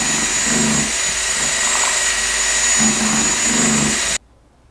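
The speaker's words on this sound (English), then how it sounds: "I like to use just a 1/2-inch cordless drill and a small mixing paddle." A half-inch cordless drill drives a small mixing paddle through drywall compound, giving a steady, loud motor whine with churning, sloshing pulses for about four seconds before stopping abruptly.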